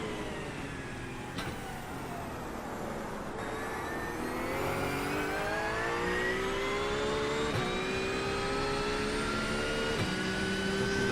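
GTP-class race car engines in iRacing at a wet Le Mans practice, high harmonic engine whines rising and shifting in pitch as cars pass and accelerate, continuous and moderately loud, no talk.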